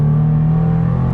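Car engine accelerating up a straight during a race, a brief steady loud drone with a strong low hum and no talking.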